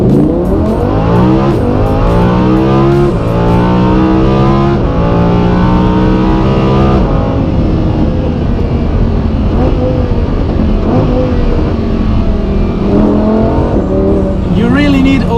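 Lamborghini Huracan V10 engine revving toward nearly 9,000 RPM, a loud, close screaming wail that climbs repeatedly in pitch through gear changes, with a voice speaking over it at times.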